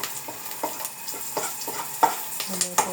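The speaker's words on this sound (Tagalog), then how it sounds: "Niluto po natin siyang adobong pusit." Squid adobo sizzling in a pan as it is stirred, light frying crackle under repeated scraping and clinking strokes of the utensil against the pan, close and moderately loud.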